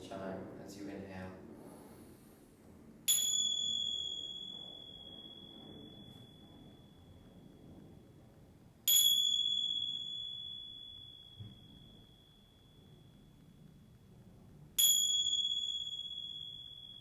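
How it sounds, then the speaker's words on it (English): A chime rings three times during a yoga session, each strike bright and clear with a long ringing decay that fades over several seconds, separated by quiet pauses with soft background sound. "We're going to listen to the sound of a chime 3 times today."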